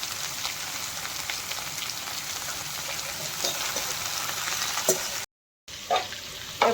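Onions frying in a pan with salt and turmeric, a dense, steady close-up sizzle with occasional crackles and stirring scrapes, briefly cut off before resuming.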